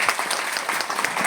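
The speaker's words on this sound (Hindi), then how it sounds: "एक बार ताली होनी चाहिए" An audience claps steadily for a short burst, dense, close applause with no voices over it.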